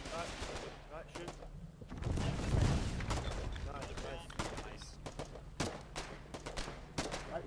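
Gunfire in the Foxhole war video game, a dense roll of rapid shots and heavier booms running through the clip, with a big burst around the middle and scattered sharp cracks after it.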